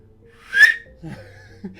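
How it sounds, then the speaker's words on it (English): A single loud, shrill hand whistle, blown through cupped hands, bursts out for about half a second and then fades, followed by soft breathing and faint low murmurs. "Can I do hand whistling? Yes, I can,"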